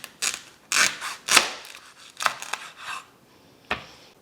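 A knife trims the tops and bottoms off ears of corn still in their husks, making several crisp, crunchy cuts in uneven bursts followed by quieter rustling, close and clear.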